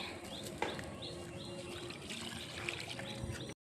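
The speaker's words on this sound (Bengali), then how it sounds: "অপরাজিতা গাছ লাগিয়েছে ওই গাছে জল দেব" Water poured onto an aparajita (butterfly pea) plant, a faint trickle and splash outdoors with birds chirping in the background.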